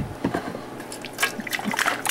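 Rust remover liquid is poured into a rusty fuel tank, giving close, uneven trickling and sloshing with a few drips over about two seconds.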